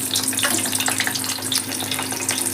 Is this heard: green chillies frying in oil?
yes